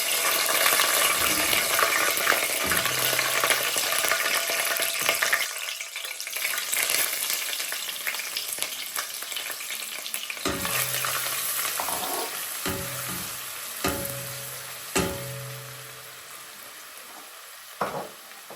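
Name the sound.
ginger and garlic frying in oil in a pot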